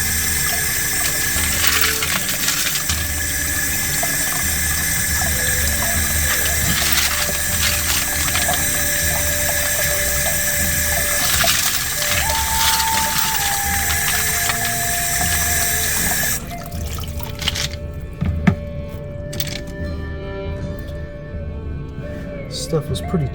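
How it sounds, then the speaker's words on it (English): Tap water rushes steadily over a batch of tumbled crazy lace agate and mixed quartz while the stones clatter and knock, then the flow cuts off, leaving a few scattered clinks. "Rinse it a little bit."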